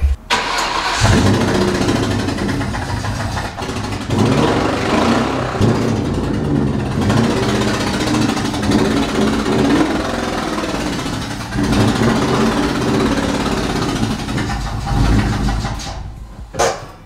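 A Ford Mustang Cobra, the Terminator model, starts up and its engine runs loud and close, idling and revving in waves for the whole stretch before dropping away near the end.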